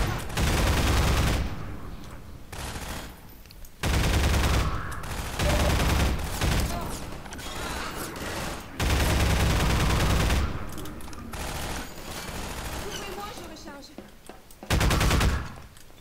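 Turret machine gun fire in Half-Life 2, long loud rattling bursts of rapid automatic shots broken by short pauses, close and dense, with someone speaking over some gaps.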